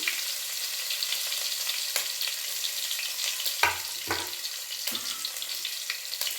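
Chopped ginger and finely cut green chillies fry for an aloo samosa filling, giving a steady close sizzle with a few sharp scraping stirs. No speech.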